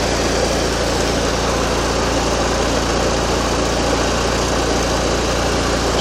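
Trapper motorcycle engine running steadily on a ride in Pennsylvania, a loud, constant droning hum with no pauses or shifts.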